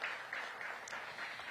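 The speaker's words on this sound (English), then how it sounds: "I'm going to give Council Member White a big round of applause." Brief applause for a council member at a restaurant week kickoff event, a soft, steady patter of many hands clapping at a distance, continuing through the short moment.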